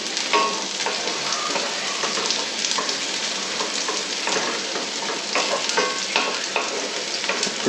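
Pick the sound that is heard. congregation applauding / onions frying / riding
onions frying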